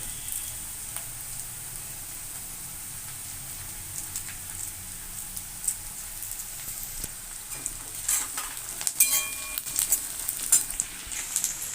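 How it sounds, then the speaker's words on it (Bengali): Chopped onions and slit green chilies fry in hot mustard oil, a soft steady sizzle with crackles and stirring scrapes that grow busier toward the end, no talking. "তেল গরম হয়ে গেছে, এবার আমি পেঁয়াজ কুচিগুলো দিয়ে দিচ্ছি।"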